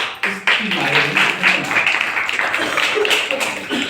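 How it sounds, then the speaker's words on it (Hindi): An audience at a large Hindi-language professional gathering breaks into loud, dense clapping that carries on for several seconds, with voices mixed into it. "अपने लिए जोरदार तालियों से अपने आप को स्वागत कीजिए"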